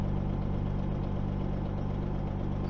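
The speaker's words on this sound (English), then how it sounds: "we'll crank it up, build up some air pressure, and see how it does" A flatbed truck's diesel engine runs at a steady idle while building air pressure in its brake system, a continuous low rumble that stays even and close throughout with no talk.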